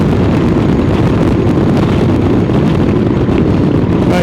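Loud, steady wind buffeting on a motorcycle cruising in sixth gear at 55 mph and about 3,500 RPM, a constant broadband roar that fills the whole clip with no pauses and no talk.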